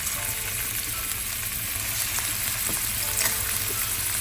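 Dried shrimp fry steadily in hot oil with a loud, dense, continuous sizzle and occasional stirring scrapes, close and with no voices.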